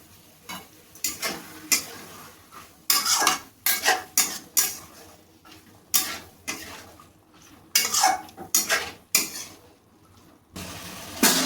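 Chicken chana curry stir-fried in a pan, a spoon scraping and knocking against the metal in repeated bursts separated by short quiet gaps, close by.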